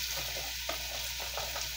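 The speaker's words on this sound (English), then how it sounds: "We're going to put our veggies in there." Celery ribs, carrots and onion tumble into a hot soup pot for a chicken-broth pastina soup, giving a steady close sizzle with a few soft stirring knocks and no talking.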